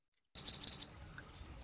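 A quick burst of several high bird chirps in rapid succession, then a brief pause and one more chirp at the end, faint over low background hiss.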